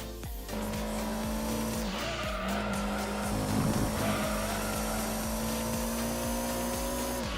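Race cars roar and tires squeal in Gran Turismo 2, with a steady high engine whine holding throughout and a brief louder skid in the middle, a continuous close game-audio mix with no talk.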